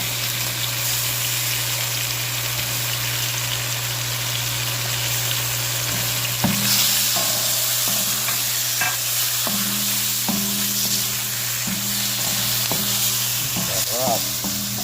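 Fish sizzles in a hot pan as it is stirred with a utensil, giving a loud, steady sizzle with repeated scraping and knocking strokes over a constant low hum.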